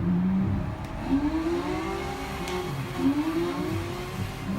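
Sports car engine in Need for Speed revving up and down in two sweeping rises, loud and close, alone with no talk.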